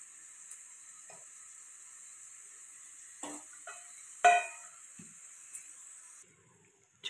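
A radish mixture simmers on low heat in a pan with a steady, faint sizzling hiss, broken by a few soft clinks and one louder scrape of stirring, with no talking.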